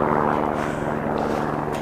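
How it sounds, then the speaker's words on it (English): A helicopter drones steadily in the background over an alpine landscape of granite, grasses and sphagnum bogs, its low rotor thrum and engine hum continuous and moderately distant throughout. "the ambience of a helicopter in the background"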